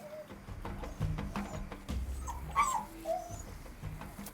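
A scared dog stuck at the bottom of a 12-foot-deep hole gives soft, intermittent whimpers and faint yips, not far off, with low rustling and handling noises around it.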